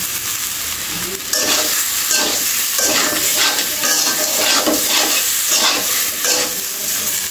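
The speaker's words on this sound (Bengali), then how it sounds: "ভালো করে নাড়াচাড়া করে কষিয়ে নেব" Taro frying with ground cumin, ginger paste, chili and turmeric crackles in a pan under repeated scraping stirs, a close, continuous sizzle with rhythmic spatula strokes.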